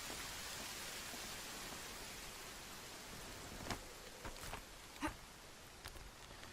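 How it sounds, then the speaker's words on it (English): Rain falls in Horizon Zero Dawn as a soft, faint steady hiss, with a few brief louder patters and thumps near the end and no talk. "It started raining for a sec there."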